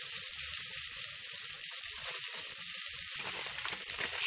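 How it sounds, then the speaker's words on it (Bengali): Curry leaves stirred into a hot pan on a lowered flame for a Bengali taro and potato dish, a bright steady sizzle with faint crackles underneath, close and without talk. "এবার আপনি কারি পাতাটা এর সাথে মিশিয়ে দিন"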